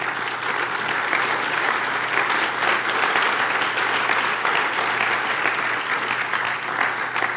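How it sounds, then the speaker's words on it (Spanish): Sustained applause from a large church congregation, steady and dense for several seconds, with a faint voice underneath. "dale el aplauso al Señor."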